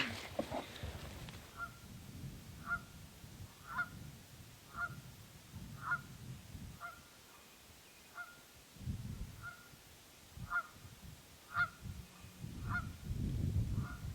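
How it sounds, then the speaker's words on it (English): A Canada goose perched up in a tree in the Ohio woods honks repeatedly in a steady, evenly spaced series of calls, somewhat distant and moderately loud over faint rustling and wind. "Never have I ever seen a Canadian goose on a tree."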